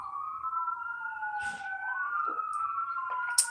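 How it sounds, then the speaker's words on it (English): Police sirens pass outside, a steady wailing tone that rises and falls and stays clearly audible throughout, with no talking. "As you see, hear the sirens."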